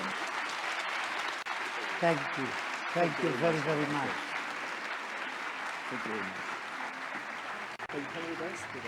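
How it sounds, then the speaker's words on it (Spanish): Applause from a conference audience after a presentation runs steadily throughout while someone speaks over it, briefly voicing his thanks. "un aplauso, por favor, para el doctor Salem"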